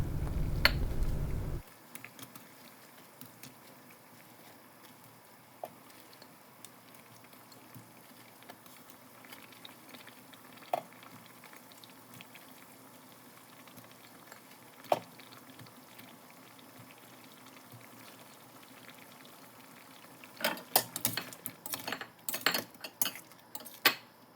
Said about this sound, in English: We have the pakoda ready and we're going to drop it in the gravy one by one.